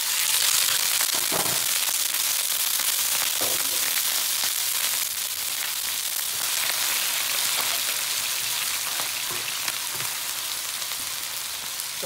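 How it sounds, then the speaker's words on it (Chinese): Chicken pieces that were not fully drained are stir-fried in hot sesame oil with ginger slices for sesame oil chicken rice, giving a dense, continuous sizzle and spattering crackle that is loudest at the start and eases slightly. "把鸡肉放下去炒。"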